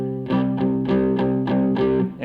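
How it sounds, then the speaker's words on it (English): Electric guitar with distortion and the back pickup engaged, palm-muted with downstrokes: a steady run of about eight chugging chords, each a short, close, loud stroke in an even rhythm with no talk. "So I'm muting with my right hand, have distortion on, back pickup, and I'm striking down"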